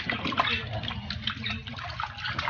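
Rinse water sloshes and swirls by hand over harvested taro in a basin, a continuous close splashing with small liquid churns.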